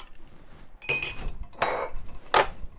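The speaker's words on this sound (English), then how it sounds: "Now you add ice and stir it really well." Ice cubes clink and rattle against glass in three short bursts as a stirred cocktail is mixed, with quiet gaps between the stirs.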